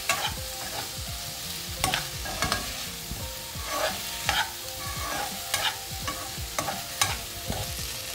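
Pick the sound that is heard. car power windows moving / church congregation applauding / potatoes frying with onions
potatoes frying with onions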